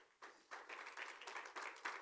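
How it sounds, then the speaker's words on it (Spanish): A church congregation applauds in bursts of clapping that start and stop, faint and somewhat distant, with no voices over it. "denle un aplauso al Señor"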